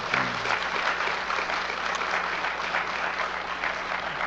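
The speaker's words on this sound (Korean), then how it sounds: "우리 박수 한번 해요." A church congregation at a revival meeting claps together, a dense, steady wash of applause at close range, loud and even throughout with no voices on top.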